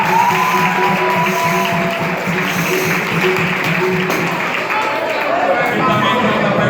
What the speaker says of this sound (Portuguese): uma salva de palmas para ele também